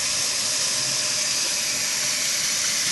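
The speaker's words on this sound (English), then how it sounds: "I need to wash my hands" Water running steadily from a kitchen tap during handwashing, a continuous broad hiss at even loudness for a few seconds, close and uninterrupted, with no talking.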